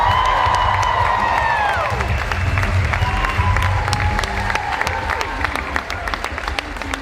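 An audience applauds and cheers for the host of a Knott's Scary Farm presentation at Midsummer Scream. The dense, loud clapping fills the room, and long whoops and shouts rise over it at first before trailing off into steady applause.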